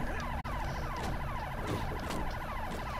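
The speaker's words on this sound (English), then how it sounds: "Shut up that siren." Loud wailing siren in Halo 3: ODST cycling rapidly up and down over a constant engine drone, with no voices.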